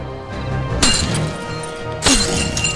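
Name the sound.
sound effect of iron chains breaking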